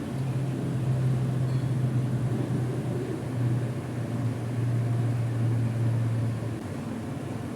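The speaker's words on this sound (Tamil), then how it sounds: "நம்ம மிக்சி ஜாரில் தேங்காய் பூண்டு காஞ்ச மிளகாய் எல்லாம் சேர்த்து முதல்ல ஒரு வாட்டி அரைச்சி எடுத்துக்கலாம்" An electric mixer grinder whirs steadily with a low motor drone while grinding coconut, garlic and dried chillies, then winds down near the end.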